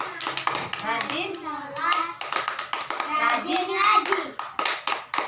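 Children clap a rhythmic Tepuk anak soleh chant during an Islamic lesson, sharp hand claps falling in patterned bursts between their sung and spoken lines.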